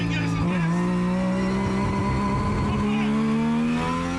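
A tuned race car engine drones with a strong, steady tone and rising pitch, close and loud, with a voice briefly audible over it.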